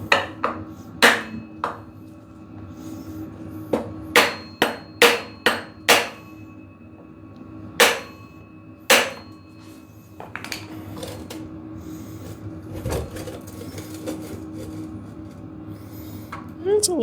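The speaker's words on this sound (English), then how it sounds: "I'm gonna get a block of wood so I don't damage this. Start kind of hitting this in." Sharp hammer blows driving an engine part into place through a wooden block during an engine swap, about a dozen separate strikes in irregular bursts, loud and close, with some handling noise between them.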